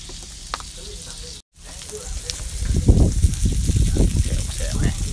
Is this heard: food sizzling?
yes